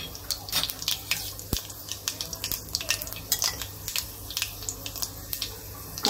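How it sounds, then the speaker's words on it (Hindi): Curry leaves and panch phoron splutter in hot oil, a steady run of small sharp pops and crackles close up, with a faint clink of utensils. "तेल हमारा गर्म हो गया है, यहाँ कड़ी पत्ता डाल देते हैं, थोड़ा सा पंचफोटन भी डाल देते हैं।"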